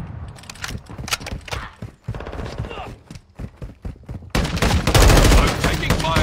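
Gunfire in the video game Call of Duty Modern Warfare II, a rapid sequence of close, sharp shots that builds to a louder, denser barrage in the final seconds.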